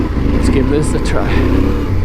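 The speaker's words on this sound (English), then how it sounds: "it is very deep sand here, so it's a bit much on a heavy bike." A heavy adventure motorcycle struggles through deep sand, its engine droning loud and close throughout with some wind rush. A rider talks over it.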